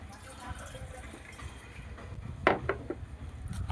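Water is poured into appam batter in a kitchen, a quiet trickle and splash that swells into a brief louder gush near the end, over faint background noise.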